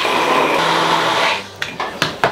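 An electric blender whirs loudly, blending a Dijon mustard and rice binding for stuffed peppers, then cuts off and leaves a few sharp knocks as the jar is tapped.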